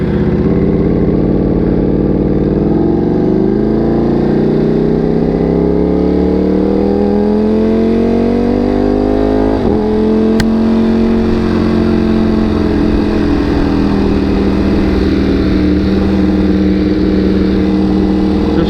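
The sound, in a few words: motorcycle riding onto the freeway in traffic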